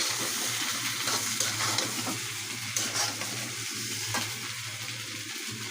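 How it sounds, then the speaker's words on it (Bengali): Mustard paste is stirred into a mango pickle cooking in a pan, giving a steady sizzle with repeated scraping strokes, close and loud with no talking. "প্রথম সরিষা দিব সরিষা বাটাটা দিয়ে দিলাম"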